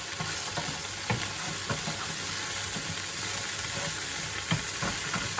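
Cumin seeds sizzling in a hot pan with the heat being turned down, a steady frying hiss broken by a few soft stirring clicks and taps, close and moderately loud with no talk.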